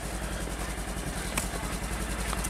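A newly bought bulldozer's diesel engine idles close by, a steady low throbbing rumble with even pulses that holds throughout, ending in a brief knock.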